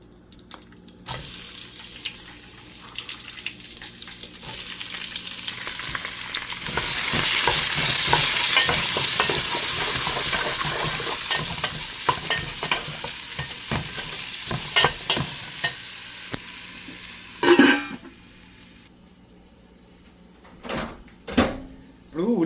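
Onions frying in oil in a pan for a homemade spicy country chicken curry: steady sizzling that swells and fades, with stirring scrapes, some running water, and a few sharp knocks near the end.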